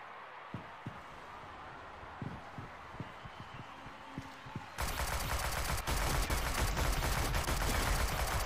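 Gunfire in the Shadowgun Legends shooter game, a scattering of short sharp shots over a steady hum, then a sudden loud, dense burst of firing that fills the last few seconds.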